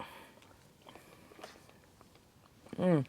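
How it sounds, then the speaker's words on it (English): Close, crunchy chewing of a US military MRE beef stroganoff with noodles and bits of onion, a soft munching texture throughout that ends in a loud burst of movement. "You know, you can tell that little onion kind of crunch."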